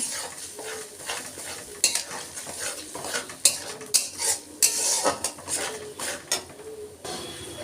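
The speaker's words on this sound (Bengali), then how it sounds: "আমি বেশ করে মশলাটা একটু কষিয়ে নেব" Ground ginger, cumin and green chilli paste sautéed in a pan for winter-vegetable khichuri sizzle quietly beneath frequent metallic scrapes and clinks of a spatula stirring against the pan, close and irregular.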